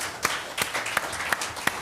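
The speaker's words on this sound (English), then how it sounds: "Give the Lord a hand clap again." A church congregation claps hands together in a few distinct, evenly spaced claps at a Sunday service, with no voices over it.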